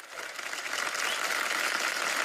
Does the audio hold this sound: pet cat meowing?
no